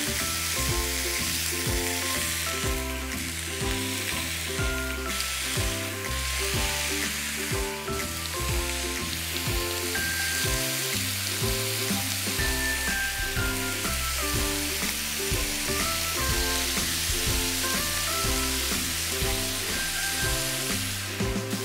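Pork slices sizzle steadily in a non-stick pan, a continuous close frying hiss with a light stir or two under background music, and no talk.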